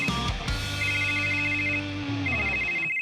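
A phone ringtone plays alone, a bright repeating electronic melody of clear tones lasting about three seconds before cutting off.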